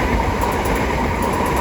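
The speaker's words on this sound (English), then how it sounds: "here we have another pair of South Eastern 376s bound for London Charing Cross" Southeastern Class 376 electric trains passing at New Cross, heading for Charing Cross, loud close rumble with rail clatter and a steady rolling roar throughout.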